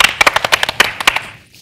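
A short burst of audience applause on a Telugu comedy show stage, a dozen or so sharp, separate claps in quick, uneven rhythm, loud and close, fading out after about a second.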